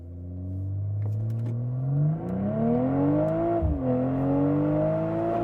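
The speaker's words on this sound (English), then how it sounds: "Let's go ahead and start with a 0 to 60 in Sport Plus mode." 2023 BMW M440i xDrive launching 0 to 60 in Sport Plus mode, engine note rising steadily from a low drone to a strained howl, a quick dip at an upshift, then climbing again, heard from inside the cabin.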